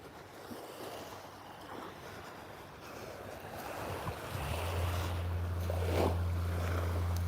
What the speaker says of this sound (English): Just the sounds of the ocean is just so amazing.